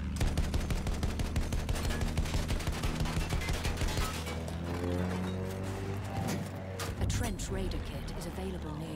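Rapid bursts of anti-aircraft gunfire in Battlefield 1 rattle in a steady chattering rhythm, mixed with engine drone and game effects at moderate loudness while players talk over it.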